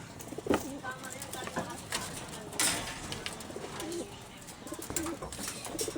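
Pigeons coo close by in soft, repeated low calls over a steady outdoor background, with faint human voices now and then.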